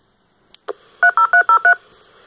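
A Baofeng handheld radio's DTMF side tone is picked up by a nearby scanner, playing as a quick run of five clean dual-tone beeps after a couple of short clicks, with silence around it.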